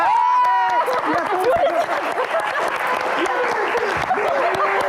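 Audience applause at an aviation Q&A event, loud and sustained dense clapping from a large crowd with some chatter and laughter mixed in throughout.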